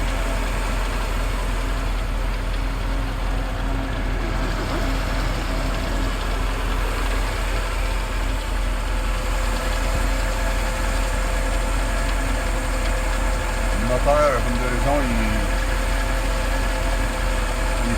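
A 1975 Dodge D-700 truck's 361 V8 engine idles with a steady, low drone throughout and a faint rattling vibration, and a brief shift in tone appears near the end.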